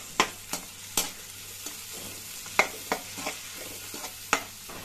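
Onions and ginger sauté in a pan for chicken gravy, with a quiet sizzle under repeated sharp clacks of a spoon stirring against the pan.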